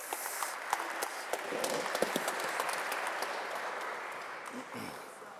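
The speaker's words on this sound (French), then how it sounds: "on applaudit Com." Audience applause fills a crowded indoor gathering, a steady dense wash of clapping with scattered louder claps. The applause holds at moderate level throughout, with voices mixed in.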